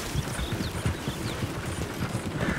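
Horse hooves clip-clop at a steady walking rhythm in the Red Dead Redemption video game, a run of soft, moderately close thuds over a low ambient bed with no speech.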